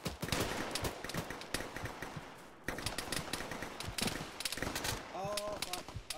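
Rapid gunfire from a tactical realism shooter game crackles in dense bursts throughout, close and loud, with people talking over it and a brief lull midway.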